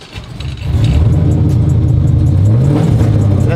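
A sequential burnout truck engine revs hard and holds at high throttle as gas is applied, a loud, close, steady roar with rising and falling pitch sweeps.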